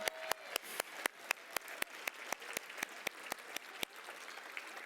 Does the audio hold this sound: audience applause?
yes